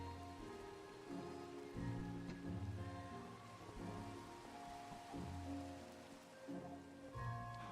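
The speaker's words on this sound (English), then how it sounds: "it's actually raining in game" Rain falling in Minecraft, a soft steady patter of drops under faint background music, quiet and continuous.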